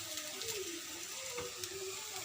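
Ginger and garlic frying with softened onions in a pan while prawn thokku is cooked, a soft, steady sizzle with faint stirring close by and no talking.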